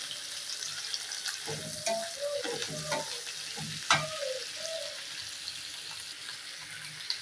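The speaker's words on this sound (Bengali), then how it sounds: "পেপার ভাজা ভাজা করুন।" Pieces of papaya fry in a pan with green chillies and onion, sizzling steadily with a few clinks of stirring and a brief sharp scrape, fairly quiet and close, no voices.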